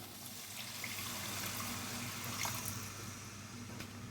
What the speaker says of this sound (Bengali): এখন আমি এর মধ্যে দিয়ে দেব গ্রেভির জন্য এই মশলার বাটি ধোয়া জল